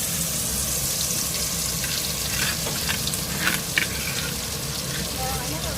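Ground spices, bruised ginger, turmeric, galangal and lemongrass sauté in hot cooking oil for soto, giving a steady, close, even sizzle with faint stirring clicks and no talk.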